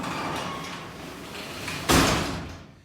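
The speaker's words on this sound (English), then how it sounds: "you're able to roll the garage door up without problem" A garage door rattles and rumbles as it rolls upward, ending in a sharp clunk before the noise fades away.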